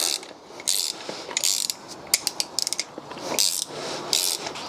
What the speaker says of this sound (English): just got a ratchet in spanner 16mm to tighten that nut up